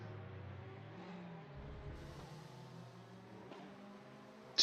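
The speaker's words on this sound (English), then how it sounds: "Let me turn this on so long, so we'll have some engine noise" Race car engine in a sim racing game at Tsukuba, a steady low drone with a revving pitch change midway, constant and moderately loud with no voices.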